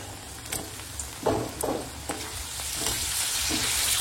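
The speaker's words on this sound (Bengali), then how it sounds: "এখন দিচ্ছি কেটে রাখা পেঁপে।" Chopped papaya hits hot oil with bay leaf, dry red chilli and panch phoron, giving a close, bright sizzle that swells and stays steady, punctuated by several distinct stirring scrapes and clacks.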